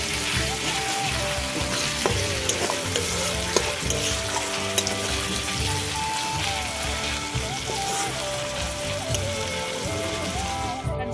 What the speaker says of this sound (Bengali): এবার এগুলো দিয়ে ভালো করে নাড়িয়ে নেব